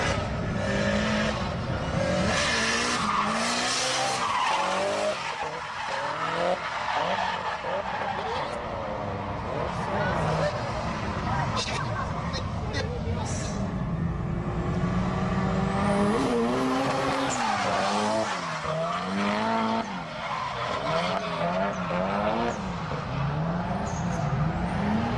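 Drift cars make single-car demo runs at YZ Circuit, engines revving hard while tires squeal and skid almost without pause. A voice talks over the loud, continuous track noise.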